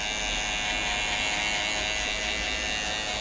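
Electric hair clippers cutting a skin fade buzz in a steady, close, continuous drone with no pauses or other sounds.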